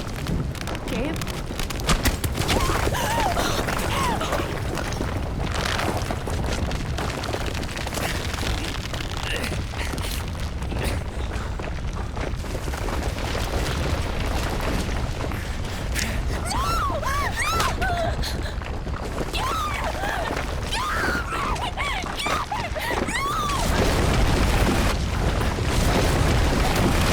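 A loud, rumbling explosion in the video game Life is Strange: True Colors. It sits in a dense wall of booming noise and game sound that lasts throughout, with voices mixed in and the level swelling near the end.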